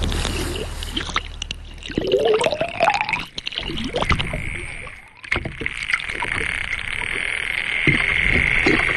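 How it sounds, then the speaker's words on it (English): Hunting dolphins heard underwater through a hydrophone: dense high-pitched crackling clicks with rising whistle-like tones, loud and close, amid water noise. "we're going to try and catch some of the sound that the dolphins are making as they're hunting"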